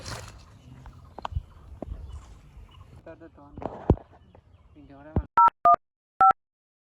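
Someone taps at a phone to call an ambulance, and four short dialing tones beep in quick succession at the end.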